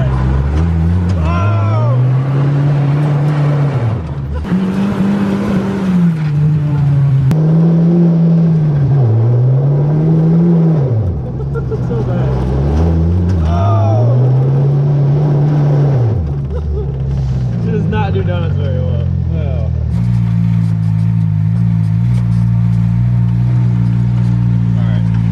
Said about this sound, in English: the only way to properly end this video is to do some donuts.